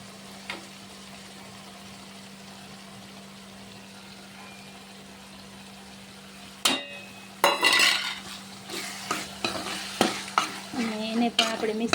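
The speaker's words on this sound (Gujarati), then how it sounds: "એને પણ આપણે મિક્સ કરી દઈએ" Roasted brinjal goes into frying tomato and onion for Kathiyawadi-style bharta: a quiet sizzle with a steady hum, then a sudden clatter and a run of close, scraping stirring strokes against the pan, with no talking.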